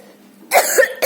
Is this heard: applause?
no